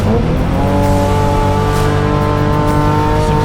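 BMW race cars howl past on a circuit in a loud, sustained engine roar with rising, evenly matched pitches and no speech.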